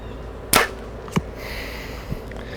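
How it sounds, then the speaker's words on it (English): A Backyard Bows Xpedition Xlite 31 bow releases an arrow with one sharp, loud snap, followed by a fainter thud and a softer tap afterward, set against a quiet outdoor background. "So as I shoot a bow, you get more and more comfortable, better with it."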